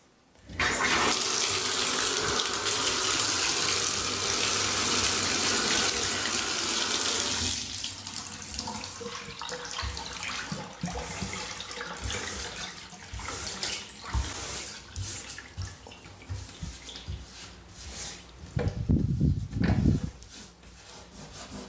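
Water rushes loudly from a bathtub for several seconds, then settles into a quieter, gurgling drain flow with scattered knocks and a brief low splash near the end.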